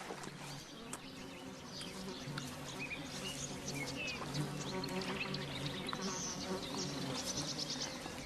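Flies buzz continuously in the Siberian wild where a bear feeds, a dense, steady insect drone with faint bird chirps scattered through the background.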